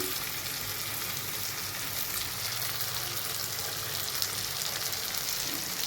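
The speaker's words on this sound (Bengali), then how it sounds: "আলুটা ভেজেও করা যায়, এভাবে কষিয়েও করা যায়" Potatoes with salt sizzle steadily in hot oil in a pan, a continuous close hiss with occasional soft stirring scrapes and no talk.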